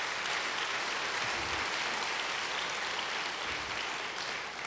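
A church congregation gives a loud, continuous round of applause during a sermon, a dense wash of clapping that holds steady throughout with no voices over it.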